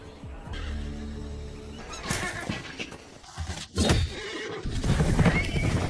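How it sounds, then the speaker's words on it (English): Several horses neigh and whinny amid a chaotic chase through a crowd of loose horses, with hooves clattering and dramatic movie sound layered over the rising commotion. "A chase ensued in the midst of a crowd of horses that had been deliberately set loose"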